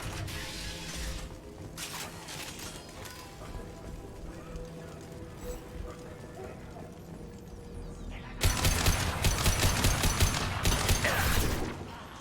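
Rapid gunfire in the video game Mass Effect 2, a fixed hand cannon rattling in a dense burst that starts abruptly partway through after a quieter stretch of mechanical game noise.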